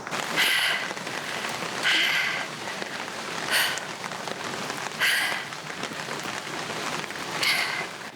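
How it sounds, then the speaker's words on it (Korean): Steady rain falls in a rocky canyon in Spain, a close, even patter on surfaces, broken every second or so by short, brighter hissing bursts. "비가 내리고 있어요."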